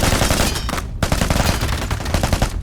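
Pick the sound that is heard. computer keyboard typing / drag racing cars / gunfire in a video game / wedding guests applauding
gunfire in a video game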